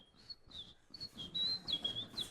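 A voice whistles and chirps in imitation of a common robin's song, a quick run of high, sliding notes delivered quietly during a live comedy act.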